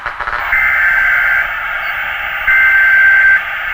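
A steady electronic alert tone for an emergency broadcast, part of a zombie apocalypse sound effects demo, sounds as a loud sustained buzzing beep that steps up in level partway through, alone without voices.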